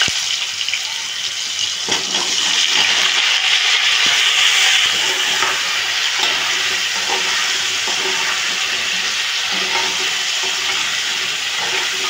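Potatoes added to a hot pan while cooking a vegetarian paneer dish give a steady, loud sizzle and hiss of frying that continues evenly throughout with no voices.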